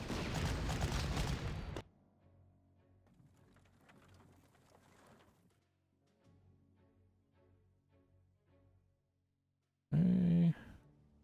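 Old World War I era cannon in the Panzer Corps war game bombard Greek troops. A loud burst of artillery fire opens, quieter rattling game sounds follow, and another short heavy blast comes near the end.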